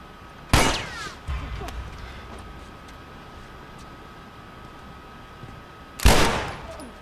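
Gunfire in the video game The Last of Us Remastered: two loud, sharp shots about five seconds apart, each ringing briefly before fading into low ambient noise, with no talking.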